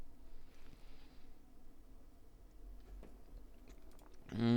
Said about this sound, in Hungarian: ha néha ilyen rágcsáló hangot hallotok, csak éppen eszek.